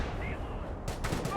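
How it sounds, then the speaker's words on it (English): Machine gun fire in Company of Heroes crackles in short rapid bursts under a low battle rumble, growing denser in the last half second. "MG fire!"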